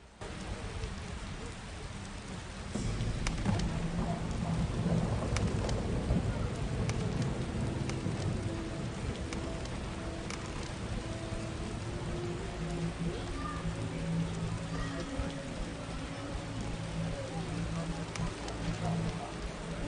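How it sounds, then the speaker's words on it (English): Steady heavy rain pours in a medieval fantasy city's temple quarter in The Witcher video game, a dense constant hiss with low rumbling beneath and faint voices or ambient tones mixed in throughout. "What a downpour!"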